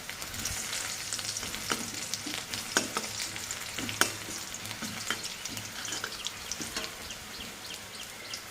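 Black cumin seeds sizzle in hot oil in a home kitchen, giving a continuous crackling fry with scattered sharper pops and a few stirring clinks, close and steady throughout.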